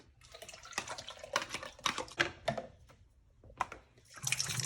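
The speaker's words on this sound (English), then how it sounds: "Once again, we put just enough water over them to cover them." Water is poured from a container over flax and other seeds in a kitchen, heard as a series of close splashes and trickles in irregular bursts with brief pauses.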